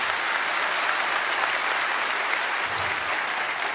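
An audience claps steadily throughout, dense and sustained applause filling the room at an even level with no voices standing out.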